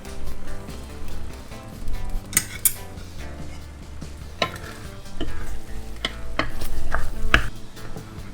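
A spoon stirs rice and soup together in a pot, scraping and clinking against the metal over a soft simmering sizzle, with irregular sharper knocks as the utensil hits the sides; nearby and fairly loud, no voices.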